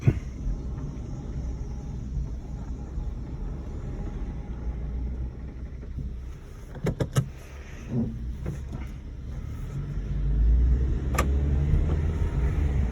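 An accident-damaged 2009 Honda Civic backs up with a low, steady engine rumble and a few faint clicks. The engine noise swells slightly toward the end, with no talking.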